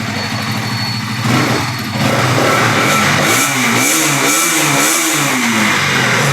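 A 2024 KTM Duke 200 motorcycle with about 11,200 km runs loud and close, its engine note rising as the throttle is blipped and wavering through repeated revs.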